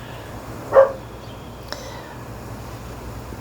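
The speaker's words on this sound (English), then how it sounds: "dogs are barking now" A single distant dog bark rings out once over a quiet indoor hum, followed by a faint tick.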